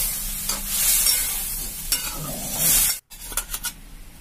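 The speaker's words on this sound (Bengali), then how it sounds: "ডালটাকে ভালো করে নাড়াচাড়া করে নেব" Boiled chana dal is stirred into a hot tempering, a close scraping swirl over a bright hiss, with a short break before a few more clattering strokes.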